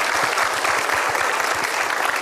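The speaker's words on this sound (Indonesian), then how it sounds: "Boleh kasih tepuk tangan untuk mereka." An audience applauds at a Merry Riana motivational talk, a dense, steady burst of many hands clapping close and loud throughout, with no talk over it.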